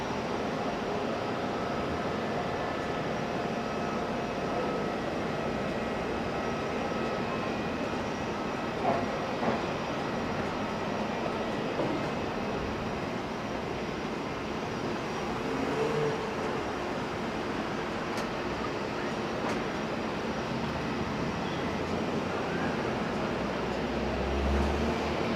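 A Jetstar jet departs Auckland International Airport for Christchurch, heard as a steady, distant broadband roar that holds evenly throughout with no voices.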